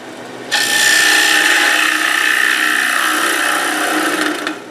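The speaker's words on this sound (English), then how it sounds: "now I'm going for finishing cuts" Wood lathe making fine finishing cuts on a winged bowl, a steady loud whirring scrape with a faint tonal ring that starts abruptly and holds for several seconds with no talk.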